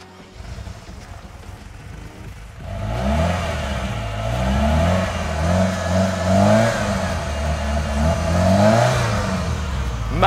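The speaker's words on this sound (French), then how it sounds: "On va écouter ce moteur-là." A black-and-beige collector car's engine starts up in a garage and settles into a loud, throaty idle with rising revs and a deep rumble, close by and steady for several seconds.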